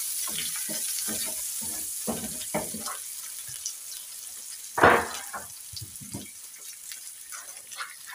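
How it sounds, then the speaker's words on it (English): Onions frying in a pan for egg curry, a soft continuous sizzle broken by stirring scrapes and clatters, with one louder clank midway. "And now we are going to put our onions."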